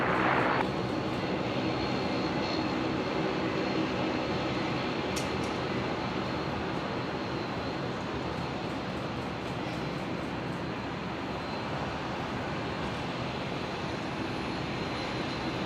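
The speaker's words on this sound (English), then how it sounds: "Another Qantas Link Dash 8 Q400 just pulling into a bay there." Qantas Link Dash 8 Q400 turboprop taxiing into a bay at Brisbane International Airport after arriving from Bundaberg, a steady engine drone at moderate distance, with no break in it.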